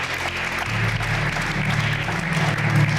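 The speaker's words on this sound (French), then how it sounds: "Can we put our hand together for Jesus?" A church congregation applauds together for Jesus, steady clapping from many hands filling the space for a few seconds over a low background hum.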